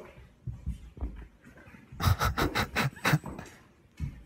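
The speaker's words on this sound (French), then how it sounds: "C'est les dogs allemands, ça, ok." A Great Dane pants in a quick, rhythmic run of breathy huffs, close and fairly loud, after a few softer breaths and movements.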